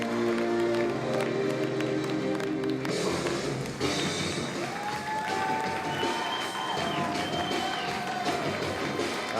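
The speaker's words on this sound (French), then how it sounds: "des applaudissements bien mérités" Warm crowd applause and cheering from the audience at a live wrestling event for a triumphant champion, a steady wash of clapping and shouts throughout with a few whistles rising above it.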